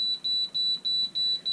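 An air fryer beeps in a fast repeating pattern of short, high electronic tones, about seven evenly spaced beeps, fairly quiet and close with no talking.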